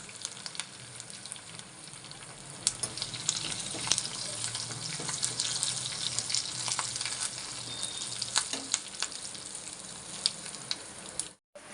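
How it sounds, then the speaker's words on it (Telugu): Mustard-seed tempering with curry leaves and asafoetida sizzles and crackles steadily in hot oil for sambar, a close, continuous frying hiss with scattered pops and a faint background hum, no talking. "తాలింపు వేసేసుకుందామండి పోపులో సాంబార్లో."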